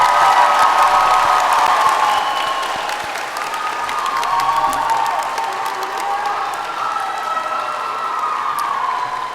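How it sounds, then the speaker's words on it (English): A large convention audience bursts into applause with cheers and whoops, loud at first and then easing slightly while clapping carries on thickly throughout. "Let's give them a big round of applause."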